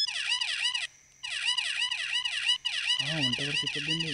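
A security camera alarm siren wails in a rapid rising-and-falling electronic pattern, loud and continuous with two brief gaps, then a second lower siren joins near the end.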